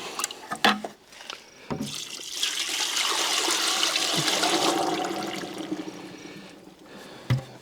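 Water is poured into a large rock tumbler loaded with big stone slabs, small pieces and 60/90 grit, making a steady rushing flow for several seconds, preceded and followed by a few sharp knocks and clunks.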